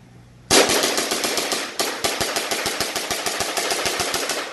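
WE Hi-Capa Dragon airsoft pistol firing over 400 fps, a sudden loud burst of rapid, evenly spaced sharp cracks fired close up, with a brief gap partway through before the steady string of shots resumes.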